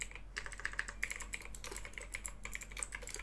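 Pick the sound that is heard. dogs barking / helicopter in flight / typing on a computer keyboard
typing on a computer keyboard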